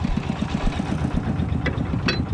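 A new Yanmar tractor working a rice paddy, its diesel engine chugging in a fast even pulse, loud and close, steady throughout with no talk.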